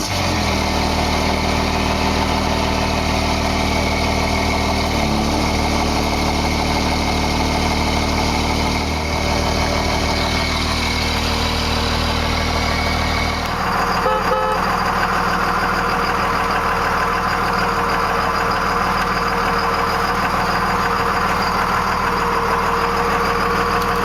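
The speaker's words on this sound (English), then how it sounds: "Gotta love the sound of a diesel." A 1998 Dodge Ram 2500 with a Cummins turbo diesel idles steadily and loudly up close, a continuous low rumble with a turbo whine, changing slightly in tone partway through, with no talking.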